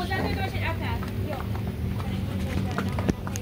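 Horses' hooves clip-clop in a quick, uneven rhythm close by, with voices talking over them throughout.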